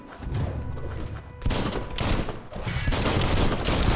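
Gunfire in the action game Biomutant: a sustained, loud burst of rapid shots that gets denser and heavier after the first second and a half, with no voice over it.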